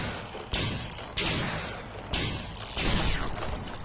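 Repeated gunshots from the side-scrolling video game Heart of Darkness, a series of sharp thudding blasts about every half second to second over a busy game soundscape.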